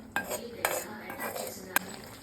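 A spoon stirring amla pickle in a pan, giving three sharp metallic clinks against the pan's side separated by soft scraping, close and fairly quiet with no talking.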